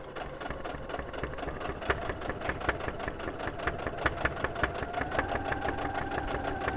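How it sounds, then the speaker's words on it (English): A home sewing machine runs steadily, stitching down the middle of a quilt strip, with a continuous mid-pitched motor whir and a rapid even needle rhythm throughout, close and fairly loud with no talking. "So I'm just sewing right the way down the middle of the strip."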